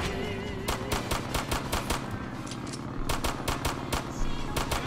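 Rapid bursts of video-game gunfire in Roblox, repeated volleys of sharp cracks in fast rhythm over a steady background din, loud and close throughout.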